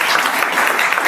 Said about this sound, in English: Can we just have another big round of applause for our